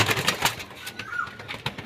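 Pigeons being caught by hand coo softly while wings flap in quick, sharp bursts close by, with scattered rustling and handling noises.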